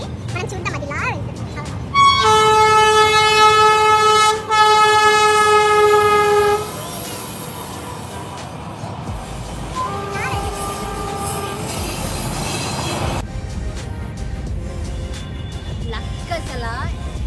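A train passes along a railway track at Dowleswaram in East Godavari, its horn blaring loudly in two long blasts, followed by steady rumbling of wheels and wagons with faint squeals, a voice speaking over it.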